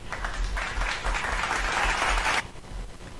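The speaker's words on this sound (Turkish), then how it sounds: "Buradan kendine de alkışlar gönderiyoruz." Applause from a group joining a live online fourth-grade math lesson, a dense burst of clapping lasting about two seconds and then cutting off abruptly, leaving quieter background.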